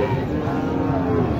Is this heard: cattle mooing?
yes